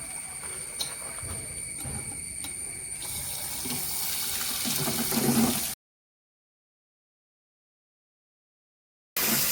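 Water runs and splashes steadily over the main pulsator of a washing machine during cleaning, then stops abruptly into silence before a brief splash returns at the end.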